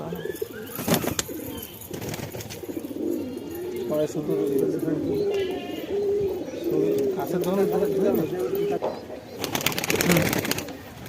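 Teddy and Andra pigeons cooing in a home loft, soft repeated low coos near the listener, with someone talking over them and occasional rustling or wing sounds.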